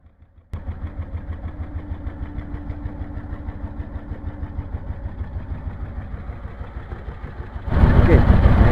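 A pompong motor boat's engine starts abruptly and settles into a steady, close, rhythmic chugging idle, then grows louder near the end as the throttle opens.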